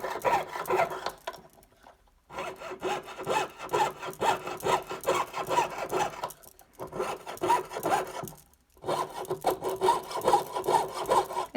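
A jeweller's piercing saw cuts steadily through metal in rapid back-and-forth strokes that rasp in a regular rhythm. Two short pauses break the sawing. It is close, with no talking.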